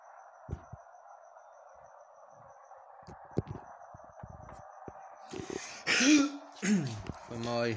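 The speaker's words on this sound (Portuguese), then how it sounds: "Com pigarra na garganta." A man with phlegm in his throat clears it several times in harsh, rasping bursts near the end, after quieter clicks and faint background sounds during a Pro League Soccer match between Israel and Norway.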